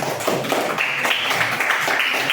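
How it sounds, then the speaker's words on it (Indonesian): A school class claps their hands together in a quick, dense patter that lasts a couple of seconds, fairly close and lively with no talking over it. "Oke, kasih tepuk tangan dulu."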